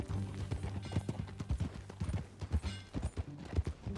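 Horse hooves clip-clop in Red Dead Redemption 2 on PC, a brisk, steady beat of close, fairly soft hoof strikes with no talk over it.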